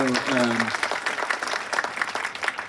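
A grand-opening audience for a new apartment complex breaks into clapping just as a speaker's voice trails off, the applause continuing steadily with scattered individual claps.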